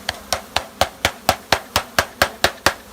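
A wooden beehive box is banged down repeatedly on one side to shake bees out, making about eleven sharp, evenly spaced knocks close by with no talking.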